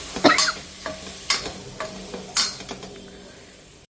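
Slit, stuffed brinjals frying in a pan and being stirred, with repeated loud scrapes and clacks of a spatula against metal over a steady sizzle, close and rhythmic, no voices.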